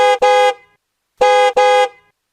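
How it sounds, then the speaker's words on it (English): Two pairs of short car horn honks, loud and close, from an arriving car, a 2023 EY1023 Flex Sting Z2, a performance-oriented version, with a brief silent gap between the pairs. "This must be Mark Zaniels honking at me in his new ride."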